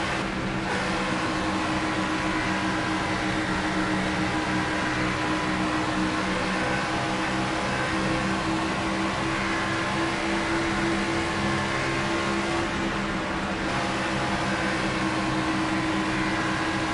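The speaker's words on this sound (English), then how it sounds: "Chopper, you can always turn down the car sounds." Race car engines drone continuously and loudly in the NASCAR '25 video game, a steady mechanical roar with a constant hum beneath it and no voices.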